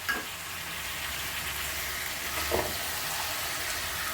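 Grated tomato hits chicken frying for curry, a continuous close sizzle with a short burst of added liquid near the start and a brief stir partway through, no voices.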